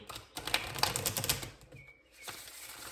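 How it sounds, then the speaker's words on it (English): Tarot cards are riffled and shuffled in quick papery bursts of flutter and snapping, close up, then a brief quieter pause before more rustling; no one speaks. "Let's do one more shuffle"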